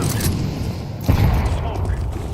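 A grenade detonates in a Counter-Strike 2 match: loud booming game audio with a heavy thump about a second in, followed by rumbling decay and lingering noise.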